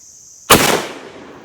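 A 12 gauge shotgun fires a single reloaded round of long shot powder and a 1.5 ounce slug, one sharp, very loud close blast that decays quickly into a short fading tail after a brief high tone.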